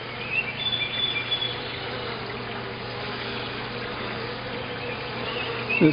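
Bees from a March swarm buzz steadily during a hive inspection, a close continuous hum with a few louder passes near the end.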